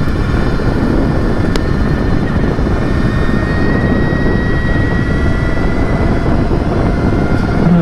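Energica Eva EsseEsse9 electric motorcycle on a test ride, its motor giving a steady whine with a rising tonal pitch under heavy continuous wind rush, loud and close with no talk.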